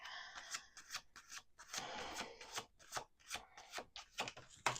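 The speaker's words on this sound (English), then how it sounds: "Let's do 2 more shuffles." Tarot cards shuffled close up in quick riffling bursts, with brief pauses and soft tapping between shuffles.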